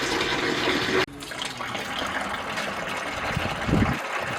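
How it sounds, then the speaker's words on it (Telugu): Municipal tap water runs continuously from a household tap, a loud steady rushing flow that cuts briefly and resumes, continuing close up with no speech. "ఆన్ చేసుకున్న ట్యాప్లో వాటర్ కంటిన్యూగా వస్తున్నాయి"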